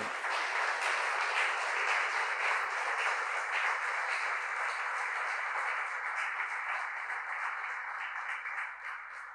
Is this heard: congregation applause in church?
yes